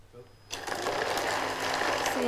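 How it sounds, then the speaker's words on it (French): A blender whirs into life after a brief quiet moment, blitzing garlic and pine nuts for a pistou sauce, then holds a loud, steady motor roar to the end. "on va mixer une première fois pour faire diminuer le volume de la sauce"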